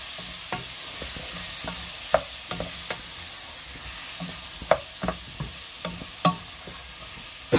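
Smoked sausages fry in a pan for risotto, a soft steady sizzle broken by scattered clicks and scrapes of stirring, close and without talk.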